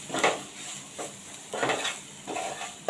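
Spices with coriander-cumin powder are stirred in a pan over a low flame, giving repeated scraping strokes in a steady rhythm of about four passes against a faint background sizzle.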